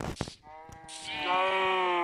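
A Minecraft sheep bleats in a long, quavering, tonal cry after a few short clicks, fairly loud and close, with no other sounds behind it.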